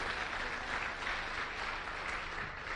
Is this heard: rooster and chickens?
no